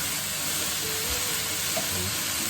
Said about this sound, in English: whilst the bacon's cooking